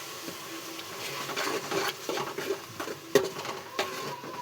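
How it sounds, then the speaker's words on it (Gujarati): Tomatoes and roasted chilies being stirred in a pan, with soft scraping and light clinks of a spoon against the metal recurring in an uneven rhythm over a faint sizzle, close by with no talking. "અને આને હલાવી જ રાખવાનું છે."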